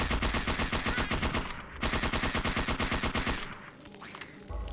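Rapid bursts of gunfire in Parasite Eve 2, fast regular shots in two long volleys separated by a brief gap, then a quieter stretch followed by another short burst.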